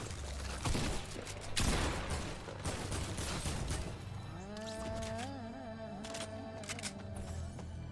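Gunshots in Fortnite, a rapid volley of sharp cracks in the first seconds, then fainter scattered shots under a sustained tonal game sound, fairly quiet overall.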